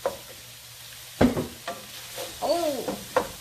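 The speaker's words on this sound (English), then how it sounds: "Now I'm going to put back over those vegetables, garlic, onions, and green peppers." Garlic, onions and green peppers sizzle in a pan, with a sharp clatter of stirring near the middle and scattered scrapes throughout, plus a brief vocal murmur toward the end.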